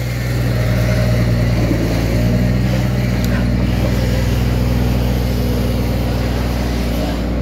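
A garbage truck's engine hums steadily outside, a loud, constant low drone with a faint rumble that holds unchanged throughout and drowns out other sound.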